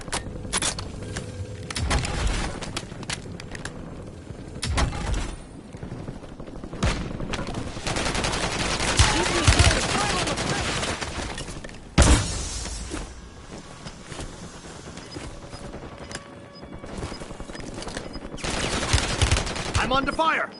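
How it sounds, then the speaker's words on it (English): Gunfire in Call of Duty Warzone: repeated loud bursts of automatic and single shots run through the whole stretch, with one sharp blast near the middle, mixed with game radio voice callouts. "I'm under fire."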